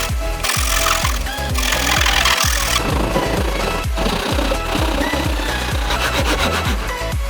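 A hand saw cuts through a stack of wooden pieces in steady, rapid back-and-forth strokes, loud and close, running continuously with a rhythmic rasp.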